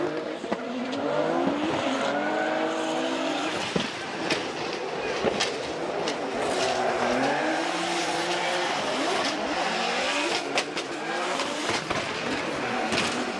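Drift cars at Formula Drift Japan 2024 roar steadily with rising and falling revs, joined by tire squeal and crowd-like noise, loud and continuous throughout.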